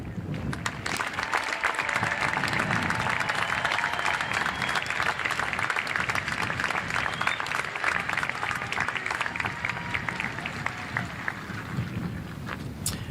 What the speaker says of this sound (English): I ask that our students wearing honor cords please stand for a round of applause.